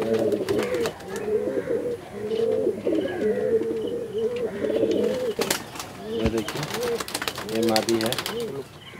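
Pigeons coo in low, rolling repeated phrases close by in a loft, with a few sharp clicks and flutters mixed in.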